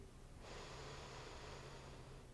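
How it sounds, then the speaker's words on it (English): Slow breathing in and out through both nostrils during a quiet restorative yoga class, a single soft, airy breath lasting about two seconds, faint and close with no talking. "we're just going to breathe in and out through both nostrils"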